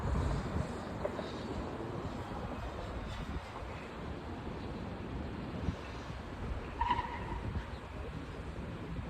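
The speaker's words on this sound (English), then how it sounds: "A lot of cars on this road, Pacific Coast Highway." Steady, moderately loud rush of busy multi-lane traffic on Pacific Coast Highway in El Segundo, a continuous roar of passing cars with no talking.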